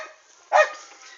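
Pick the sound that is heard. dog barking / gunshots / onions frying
dog barking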